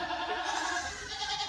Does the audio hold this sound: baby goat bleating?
yes